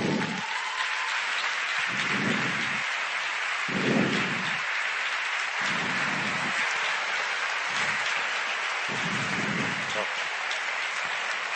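A large audience claps continuously at a talk with philosophers on stage, a dense, even wash of applause that holds for over ten seconds.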